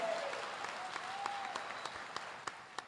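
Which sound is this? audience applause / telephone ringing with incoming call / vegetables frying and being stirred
audience applause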